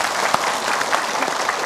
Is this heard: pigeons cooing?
no